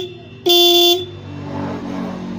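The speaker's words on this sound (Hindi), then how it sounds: "अब बजा कर देखते हैं हॉर्न आवाज़ कैसी दे रहा है" A single loud motorcycle horn blast lasting about half a second, bright and buzzy, then a low motor hum continues underneath.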